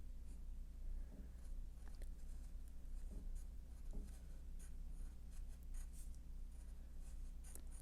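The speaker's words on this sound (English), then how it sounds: "then you can draw some teeth in here" Pencil scratching on paper while sketching teeth, soft and close, with short quick strokes and light taps over a low steady hum.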